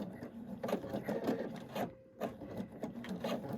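Sewing machine stitching slowly around the bulky edge of a fabric pocket purse, uneven rasping needle thumps that pause briefly midway before resuming, close and moderately quiet.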